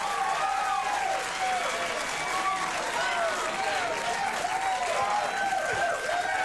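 A studio audience cheers and applauds loudly and steadily, while a bright whistling or warbling tone rises and falls over the crowd noise.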